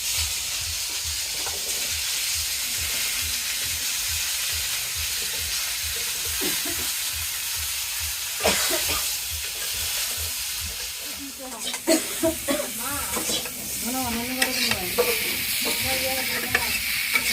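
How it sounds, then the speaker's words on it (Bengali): Cauliflower and potatoes frying in a pan after fish, a steady close sizzle with occasional stirring clatter, joined later by a voice calling out and other background talk. "এখন মাছ রান্নার জন্য ফুলকপি আর আলুগুলো আগে একটু ভেজে নেব।"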